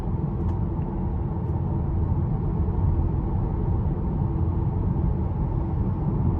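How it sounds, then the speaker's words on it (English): Inside a 2021 Tesla Model 3 Performance on the move, continuous road noise fills the cabin with a steady low rumble, and a faint AC fan hiss sits underneath. No one speaks. "All you can hear is barely the fan speed from the AC, and mostly just the road noise"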